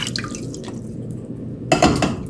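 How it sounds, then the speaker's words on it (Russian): Water drips and splashes into a cooking pot as 200 ml is poured, a soft trickle that swells into a brief louder pour near the end. "В кастрюлю наливаем 200 мл воды"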